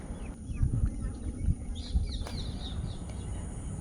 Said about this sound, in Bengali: এত সুন্দর ব্যাকগ্রাউন্ডে দেখো পাখি ডাকছে